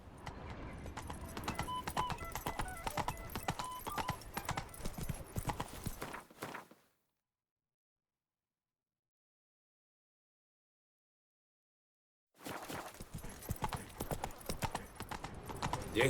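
Roach, a horse in The Witcher 3, runs with brisk, rhythmic hoofbeats close by for about six seconds, then silence, and the galloping resumes near the end.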